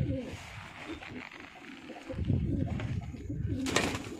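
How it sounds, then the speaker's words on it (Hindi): A pigeon received as a gift coos from a perch overhead in low, soft repeated calls, with other bird chirps and background noise around it and no clear speech. "और एक कबूतर भी गिफ्ट में आया है जो ऊपर ये बैठा हुआ है ना"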